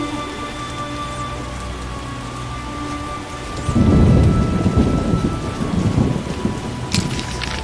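Steady rain pours in The Witcher video game, joined by a deep, rumbling roll of thunder that swells loudly around the middle and lingers, with no talking.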